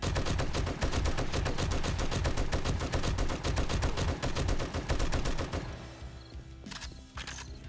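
Rapid gunfire from an everyday, heavy-recoil gun in 7 Days to Die, a dense string of loud close shots that runs steadily for several seconds, then stops into quieter movement with a couple of scattered sharp sounds.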